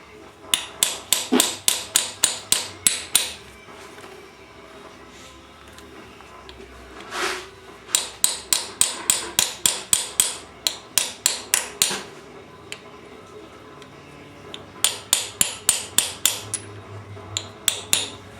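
Crankshaft seal tapped into the front cover of a Subaru EA82 engine with a hammer, sharp metallic taps in fast rhythmic bursts separated by short pauses, close and clear with no talking.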